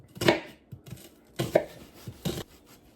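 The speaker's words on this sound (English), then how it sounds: "Finally dicing my onion." A knife dices half an onion on a board, producing three close, crisp cutting strokes at an even rhythm with softer taps between them.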